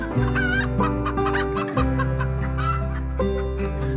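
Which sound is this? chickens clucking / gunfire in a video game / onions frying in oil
chickens clucking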